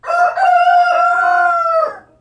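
A backyard rooster gives one loud, close crow lasting about two seconds, a long sustained call that tails off, with no talk over it.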